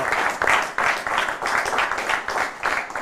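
Audience applause welcoming the coach of the SD Città di Sora five-a-side football team, a steady wash of clapping from a room of players with swelling bursts, fairly close and continuous throughout.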